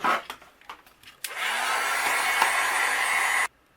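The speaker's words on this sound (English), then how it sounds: "And then I'll use my heat gun and we'll go ahead and melt this." A heat gun melts white embossing powder on stamped ink, starting after a few light clicks with a steady, loud whooshing blower roar that runs for about two seconds, then cuts off abruptly.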